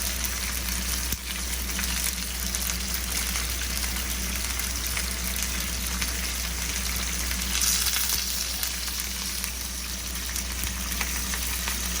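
A tomahawk steak sears in a home frying pan, giving a steady, close, dense sizzle and crackle that holds at an even level throughout, with no talking.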